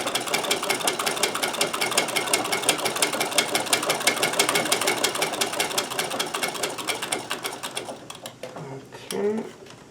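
A sewing machine stitching a buttonhole, a fast steady mechanical whirring with rapid regular needle clicks that runs for about eight seconds, then slows and stops, leaving faint handling noise.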